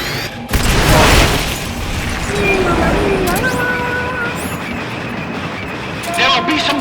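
Boosters fire in the video game Metal Gear Solid: Peace Walker, opening with a loud booming burst and rumble, then a sustained mechanical roar with rising tonal whines; game dialogue and voices run over it.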